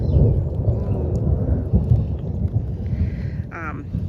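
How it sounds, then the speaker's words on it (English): Thunder rolls outdoors as a low rumble that swells and fades under rain and wind, with a short bird chirp near the end and no clear speech. "Oh, hear the thunder."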